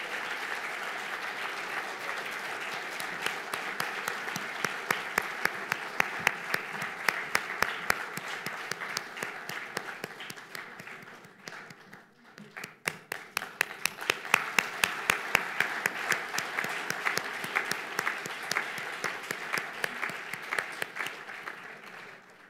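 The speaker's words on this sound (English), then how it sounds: "a big round of applause to Safina Hussain and Educate Girls" Sustained audience applause at an award ceremony for a social entrepreneur, dense clapping from a large crowd with sharp individual claps standing out, dipping briefly midway before swelling again and continuing.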